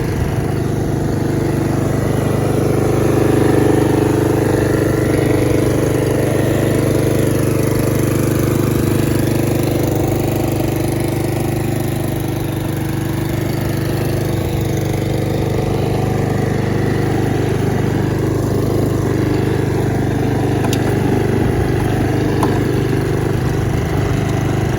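A Honda HRX217HYA lawn mower engine idles steadily while warming up, a continuous loud mid-pitched drone with a constant low hum, holding an even level throughout with no talk.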